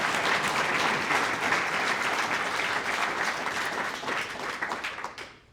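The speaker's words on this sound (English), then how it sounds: "And let's give ourselves a round of applause for those efforts" A community gathering at a State of the Community event in Hastings, Minnesota breaks into a full round of applause, dense and sustained clapping from a sizable crowd that holds steady, then fades out near the end.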